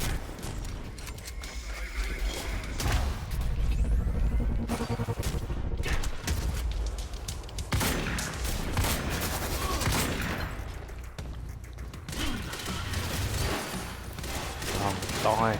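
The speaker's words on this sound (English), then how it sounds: "Come on, let me just shoot them." Rapid bursts of gunfire in the Quantum Break shooter game, dense and loud throughout, with overlapping shots and explosions packed close together.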